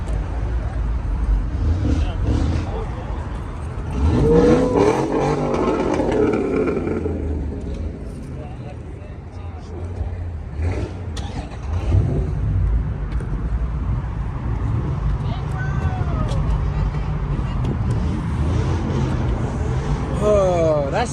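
A Mopar 392 engine revs at a Chicago car meet. It gives a deep rumble that swells in several rising surges over a noisy crowd, while people talk and shout nearby throughout.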